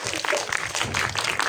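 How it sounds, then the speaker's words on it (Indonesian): Applause from a crowd at a film press conference, a dense steady patter of many hands clapping for a brief moment. "Boleh kita berikan tepuk tangan?"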